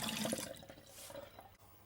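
Water running from the sink faucet in a converted camper van, a short splashing gush that fades and softens as the flow tapers off.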